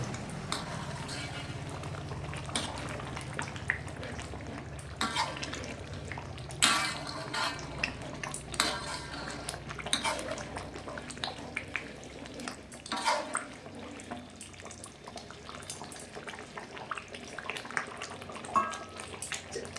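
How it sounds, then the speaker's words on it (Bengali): Chicken korma being stirred in a cooking pot, with repeated scraping and clinking of a spoon against metal over a steady low simmer, close and moderately loud with no talking. "পাঁচ মিনিট পর চিকেন কোরমাটা আমি নেড়ে দিলাম।"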